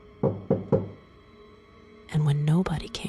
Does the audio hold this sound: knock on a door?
yes